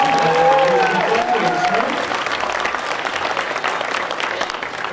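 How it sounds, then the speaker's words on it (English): Steady audience applause from a crowd at a construction-industry suicide-prevention anniversary event, dense clapping that holds strong throughout with a few voices and a whistle near the start. "How about another big round of applause as we finish that all up there."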